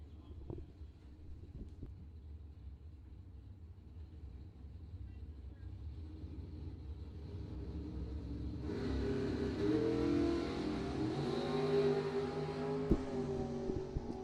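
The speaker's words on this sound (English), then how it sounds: "in a 14 American rear engine dragster, big block Chevy power, dial 495." Big block Chevy powered rear engine dragster at a bracket drag race, engine droning steadily in the distance, then swelling into a louder, rising roar with wind noise as it launches and pulls away.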